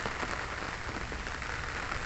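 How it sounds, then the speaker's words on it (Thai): Steady rain falls over a rural Thai or Lao home. The patter is dense and even, with a constant hiss of drops on surfaces at moderate level and no voices. "ฝนตกพี่น้องบรรยากาศฝนตก"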